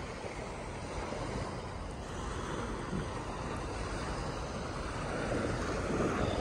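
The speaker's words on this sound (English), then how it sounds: "They sleep to the waves, right?" Ocean waves wash onto the shore at Calaca beach in the Philippines, a continuous broadband surf roar with some wind, swelling a little louder toward the end, with no voices.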